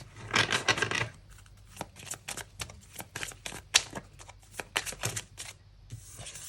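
Tarot cards shuffled and laid out on a table: a dense rapid riffle at first, then a long run of crisp separate card snaps and slides, close and clear.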